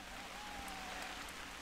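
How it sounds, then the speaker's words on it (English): Rain falling in the hunting game theHunter: Call of the Wild, a soft, steady wash of drops heard faintly throughout with no clear individual patters standing out. "Got some bad weather this morning, it's raining."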